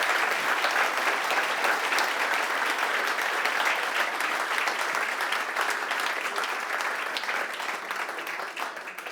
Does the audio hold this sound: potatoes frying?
no